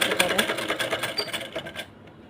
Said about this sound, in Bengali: দুপাশে এভাবে ভাগ করে সেলাই করে